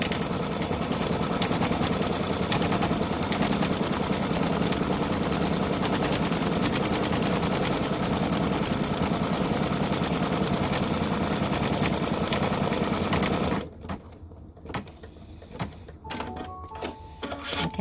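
Embroidery machine stitching a black placement outline onto Mylar, a loud, steady rapid mechanical rattle running continuously before cutting off near the end, followed by quieter scattered clicks and handling noises.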